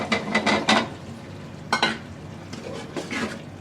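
Potatoes and tomatoes tipped into a well-fried spice paste in oil, with bursts of stirring and pan clatter over a low sizzle, close by and without talk.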